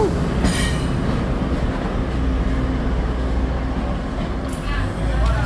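Passenger train rolling past at close range at a Taiwanese station, a steady loud rumble of wheels on rails throughout with brief higher screeches near the start and end, and faint voices underneath.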